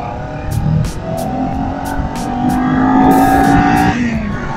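A Kawasaki Ninja 400 KRT motorcycle on a road trip, its engine revving hard with rising, climbing pitch, loud and close, with wind rushing past.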